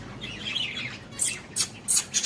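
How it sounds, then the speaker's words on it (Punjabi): A green parrot gives several sharp, shrill squawks in quick succession, following a softer warbling call, close and fairly loud in a quiet room of a pet bird shop. "ਉਹ ਮੇਰਾ ਫੇਵਰਟ ਤੋਤਾ ਬੈਠਾ ਗ੍ਰੀਨ ਪੈਟ"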